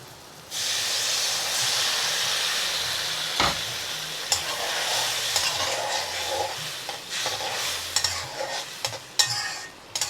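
Water poured into a pan of sautéed spice paste for a Bengali puiya fish curry bursts into a loud steady sizzle and hiss, then settles into bubbling with scattered stirring clicks and scrapes.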